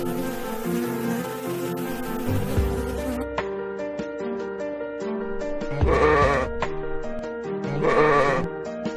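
Lambs out in the fields bleat in two or three drawn-out calls, fairly close, set against a steady bed of soft sustained musical tones.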